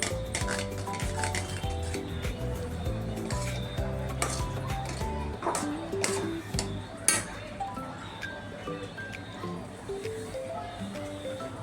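A spoon stirs amaranth and peanuts around a pan for chikki, with repeated metallic scrapes and clinks at close range over a low background hum.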